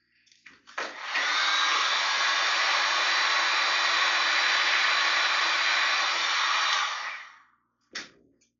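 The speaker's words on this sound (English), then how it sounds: "if you don't have a heat gun and you use your wife's hair dryer, it takes a little bit longer to heat up" A household hair dryer is switched on to heat plastic panels so the decals can be peeled off. It gives a steady, loud, airy whir for about six seconds, bracketed by switch clicks.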